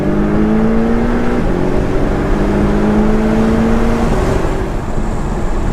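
A Porsche 718 GTS engine accelerates under load, its droning tone rising steadily with two clear shifts. It stays loud and even throughout, heard from inside the car.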